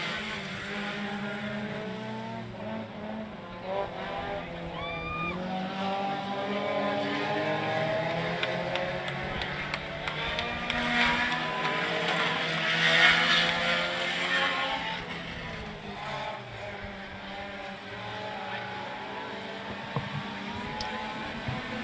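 Sport compact race cars roar through a heat race at Cotton Bowl Speedway, a steady, continuous engine drone with rising and falling pitches as the field passes, moderately distant.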